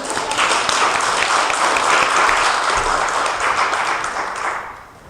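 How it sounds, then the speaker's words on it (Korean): A church congregation applauds the choir after a hymn, a dense, sustained round of clapping from many hands that holds steady and then tapers off toward the end, with no speech over it. "성가대 격려의 박수 보내주겠습니다."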